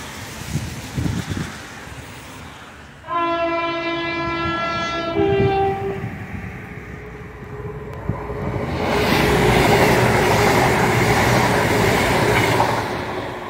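A train rumbles through Starcross station with a long, loud horn blast of several stacked tones, followed by a swelling roar of wheels and engine close by.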